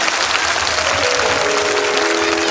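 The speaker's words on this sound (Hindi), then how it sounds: "एक बार दोनों हाथ उठा के ताली बजा करके" An audience at a Ram Katha devotional gathering claps with both hands raised, producing a dense, sustained burst of applause with a faint tonal hum running underneath.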